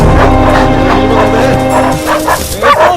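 Several dogs bark and yip loudly and close together in an overlapping, excited chorus, with some whimpering as a voice speaks over them.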